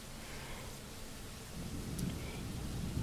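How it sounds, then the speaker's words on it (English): Rain falls steadily in a visual novel game, a soft, even wash of patter with a faint low rumble building toward the end, with no speech. "we woke up and it's raining"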